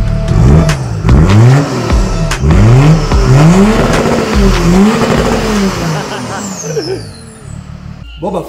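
A BMW E30 with a diesel engine revs in a garage, rising and falling in repeated bursts of throttle, loud and close, before settling toward idle near the end.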